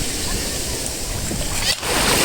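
Strong sea waves at a beach in Batangas, a loud continuous rushing wash of surf filling the scene, close by, with a brief dip near the end.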